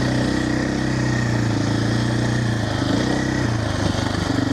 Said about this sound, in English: It's the most arrogant sounding bike I've ever heard, but it's a fucking powerhouse.